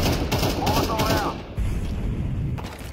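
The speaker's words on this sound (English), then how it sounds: "He's blind firing me through smoke." Rapid gunfire in a shooter video game, fired blind through smoke, comes as quick repeated shots in a dense burst. It continues under busy game noise and a brief clatter before tapering off.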